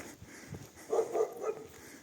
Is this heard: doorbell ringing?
no